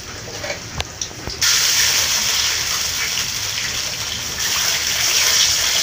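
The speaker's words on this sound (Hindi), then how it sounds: "तो बाद में इसके अंदर डालूँगा पानी।" Water gushes into a cooking pot in a village kitchen for masala rice, starting abruptly after a few faint clinks and then pouring steadily and loudly to the end.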